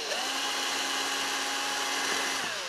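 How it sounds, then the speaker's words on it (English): Power driver sinking a screw into small pilot holes, a single sustained high-pitched whir rising to speed and holding for about two seconds before stopping, loud and close. "What I'm going to go ahead and do is screw into those little holes."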